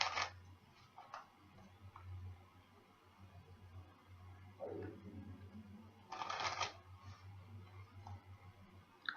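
Quiet riffle of tarot cards being shuffled, a few brisk bursts of rapid flicking separated by pauses, close by with no talking.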